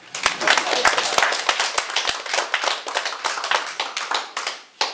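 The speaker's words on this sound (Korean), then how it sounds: "박수 주세요." An audience at a lecture during a meditation and mind-study training session claps together, producing sharp, distinct hand claps that settle into a brisk, loud rhythm close by, with scattered claps trailing off near the end.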